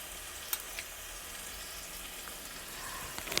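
Potatoes sautéed in a pan for aloo dum: soft, low frying sizzle with a few faint spoon clicks, quiet and without talking.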